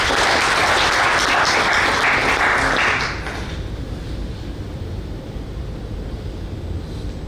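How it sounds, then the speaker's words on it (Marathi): Loud burst of crowd applause for about three seconds, then fading into a quieter, lingering patter of scattered clapping and room noise. "त्यांच्याकरता एकदा टाळ्या होतील होत्या"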